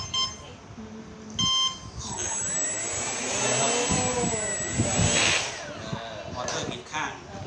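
The electric motor of a homemade remote-control airplane whines and revs, rising and falling in pitch with a high buzzing tone, close and loud, while voices talk over it.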